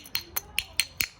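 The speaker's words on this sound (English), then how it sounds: "they'll have a hammer stone and they'll get rid of the really thin sharp edges by just tapping it" A hammer stone taps the thin sharp edges of a flint flake, five crisp, evenly spaced clicks in quick succession, close and clear with no talking.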